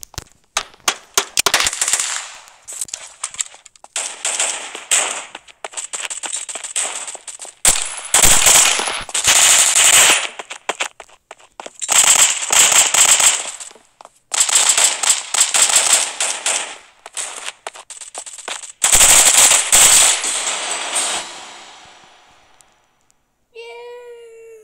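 Gunfire in a first-person shooter video game comes in loud rapid automatic bursts separated by short pauses, close and sharp throughout before fading out near the end.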